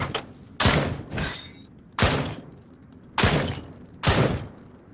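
Gunshots at targets in the VR game Drop Dead Dual Strike come as five sharp, loud single reports at irregular intervals, each with a short decaying tail, and nothing else between them.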